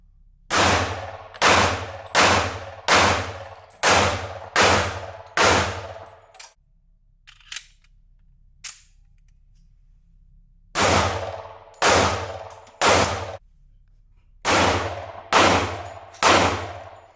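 Springfield TRP 1911 pistol with a 4.25-inch barrel fired at an outdoor range: a string of six loud, sharp shots in steady rhythm, a pause with faint clicks, then two more strings of shots with echoing tails.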